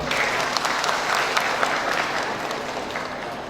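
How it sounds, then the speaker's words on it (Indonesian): Audience applause rises for a guest at a mosque inauguration in Dumai, Riau, a dense, steady wash of many hands clapping together for a few seconds without talk. "Tepuk tangan dulu buat beliau."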